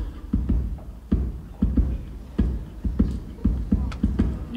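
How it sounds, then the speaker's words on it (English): A ukulele tapped as a soft, low thumping heartbeat, its muffled pulses arriving in paired beats that repeat evenly, close and unaccompanied. "And there's also the sort of the heartbeat of the ukulele."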